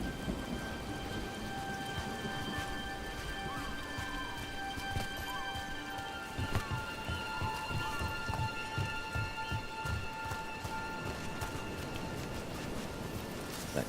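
Steady rain falling in the fantasy game Dragon Age The Veilguard, a soft continuous patter with scattered drips, fairly faint, with a brief clatter partway through.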